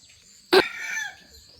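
A rooster crows once near the microphone, a loud sudden call that trails off over about a second, on a rural Thai farm with garden vegetables and sugarcane, with faint fowl sounds in the background.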